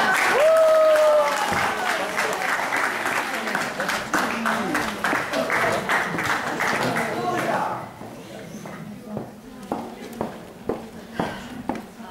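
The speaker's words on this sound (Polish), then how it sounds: "jeszcze raz brawa dla pani Teresy" Applause from an audience at an award ceremony for the first-place winner of a photography contest, dense clapping that fades after several seconds into a few scattered claps.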